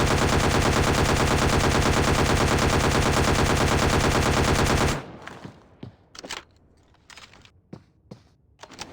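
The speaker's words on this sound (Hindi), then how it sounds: "तो भाई देखो, एक बार ये स्प्रे चेक करो।" Automatic gunfire sprays in a video game as a continuous, loud, rapid burst for about five seconds, then cuts off into faint scattered clicks and small taps.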